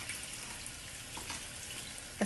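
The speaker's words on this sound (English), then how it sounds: "You're gonna throw a very little bit of water, very little." A small splash of water is added to a pan of saucy picadillo with potatoes, a soft steady trickling hiss at moderate level, ending in a brief louder clatter, with no voices.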